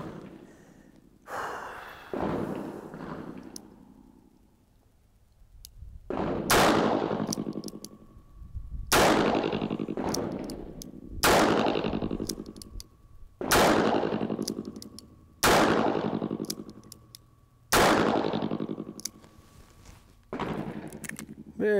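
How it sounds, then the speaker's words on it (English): A 6-inch Model 15 revolver fires 158 grain semi-wadcutter rounds in a slow, steady string of seven loud, sharp reports, each a few seconds apart with a ringing decay, after a few softer handling sounds. "This will be the 6-inch Model 15, shooting the 158 grain semi-wadcutter."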